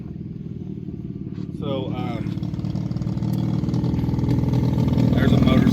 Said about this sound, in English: there's a motorcycle driving by.